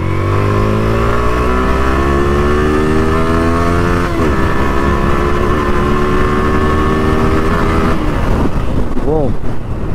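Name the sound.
Yamaha R15 v3 motorcycle engine revving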